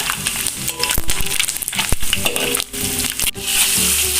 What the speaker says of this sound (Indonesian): Terinya digoreng setengah matang aja ya Bunda.